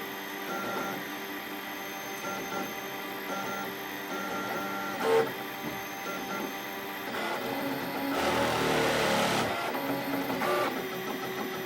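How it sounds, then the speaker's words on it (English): A 3D printer whirs with steady motor tones while printing, and a louder buzzing, grinding resonance rattle swells for a moment before settling back into the hum. "I don't know if this is the print destroying resonance or just some other noise"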